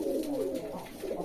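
Pigeons feeding their chicks after eating, with steady soft cooing and low bird murmurs filling the whole short stretch up close, no voices.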